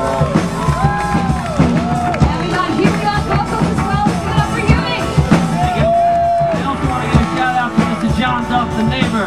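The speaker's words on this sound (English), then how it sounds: "We want to give a big round of applause for Frank and thank him." A concert audience cheers and whoops for Frank, the host of a jam festival, a loud sustained crowd roar with yells mixed in under live music and talking.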